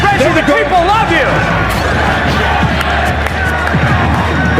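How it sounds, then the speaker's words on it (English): A loud crowd cheers and shouts for Reggie at the Nintendo World Championships, steady chanting and babble filling the space with rising yells and scattered whoops throughout. "The crowd's cheering for Reggie"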